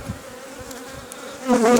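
Honey bees hum steadily at a small late-May hive split, a dense close buzz that swells louder toward the end, with no speech.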